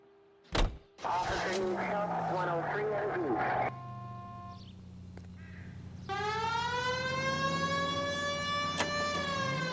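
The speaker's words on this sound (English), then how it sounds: "We have a siren." A rising and falling police siren in L.A. Noire wails steadily for several seconds after a sharp thump and some rumbling, loud and close, with no talking.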